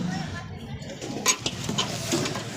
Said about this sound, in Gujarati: તો અહીંયા વાસણ ધોવે છે